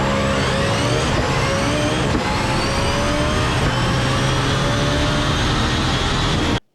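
A turbocharged Nissan VK56 V8 drag car revs hard and loud, a continuous roaring engine note that rises through the revs, close up with no talking.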